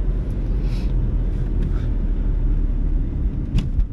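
Low, dense engine rumble from a 2009 Smart Fortwo lugging at low revs in fourth gear, a steady strained drone heard from inside the small car with faint road and wind noise.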